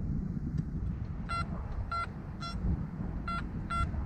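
An Anfibio metal detector sounds its signal tones during a field test, giving several short, soft beeps in an uneven rhythm over loud, rumbling outdoor background noise.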